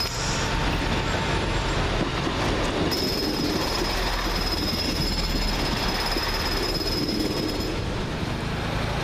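A Class 185 train passes through Doncaster station with a steady rumble of wheels on rails and a high, sustained squeal, heard at moderate distance amid station ambience.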